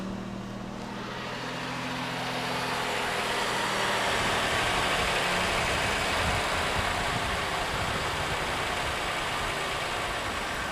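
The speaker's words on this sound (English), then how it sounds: "let's start it up and you can hear it" The V6 engine of a 1986 Oldsmobile 98 Regency idles steadily with a low, even rumble that swells slightly in the first couple of seconds, then holds constant and fairly loud, with no talking.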